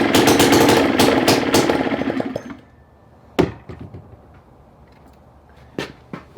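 A small two-stroke engine on a Craftsman Japanese backpack blower sputters loudly for about two seconds and then dies, leaving near quiet broken by a few sharp knocks and clicks.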